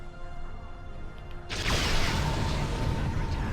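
A ship's rapid-fire cannon aboard a Vaadwaur frigate in a space video game kicks in suddenly after a quiet stretch of engine hum, becoming a dense, continuous barrage of blasts that stays loud to the end.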